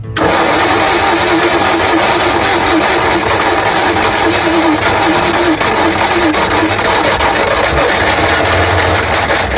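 1956 Ford Fairlane engine running for the first time in 15 years: a loud, rough, continuous rumble of the old V8 close by, steady throughout with little variation and no talk.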